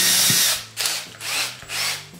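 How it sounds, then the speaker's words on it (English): A power drill whirs in four short bursts while drilling a hole in a Pemedor dust cyclone, revving up and slowing between each, close by and fairly loud. "I'm going to drill a hole right there"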